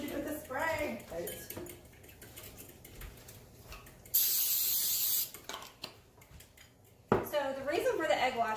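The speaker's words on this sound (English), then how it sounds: "So let me spray this." A can of cooking spray is sprayed onto a baking surface for apple pie cookies, one steady hissing burst of about a second, while people talk before and after it amid light kitchen clatter.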